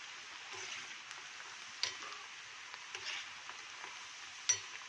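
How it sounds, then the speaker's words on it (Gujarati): Raw banana wafers frying in hot oil on a high flame, with a continuous sizzle and occasional soft clicks and scrapes as the slices are stirred. "આવી રીતે આપણે હલાવતા રહેશું।"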